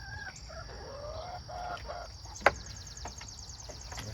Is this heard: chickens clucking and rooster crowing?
yes